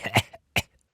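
A man coughs twice in quick succession, close and fairly soft, each a short rough burst followed by silence.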